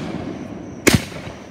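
A single fireworks shell bursts outdoors with a sharp, loud crack that stands alone over quiet background, part of a backyard birthday firework show.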